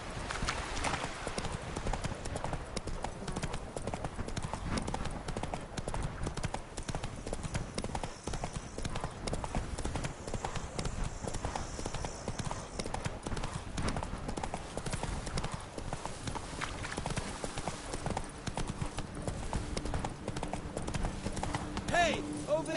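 Geralt's horse Roach gallops in The Witcher 3, hooves pounding in a fast continuous clip-clop for the whole stretch, with talking over it.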